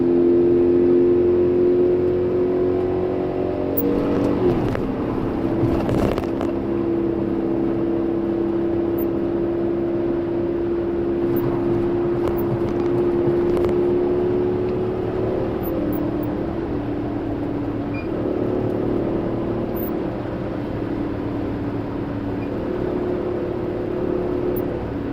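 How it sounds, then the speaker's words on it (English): A car engine hums steadily at raised revs while driving, a sustained droning tone with slight pitch shifts and a few brief louder swells, no talk. "So we're going to get the revs up here and"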